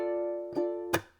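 A ukulele holds one sustained chord, then two short percussive chunk strums land in a fast strum pattern, played close and alone.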